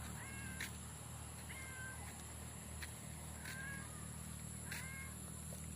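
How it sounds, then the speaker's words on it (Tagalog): Several short, high meows repeat at intervals against a steady hum of background noise, fairly faint and without any talking. "nakikita kong bibig mo bumiyaw-miyaw."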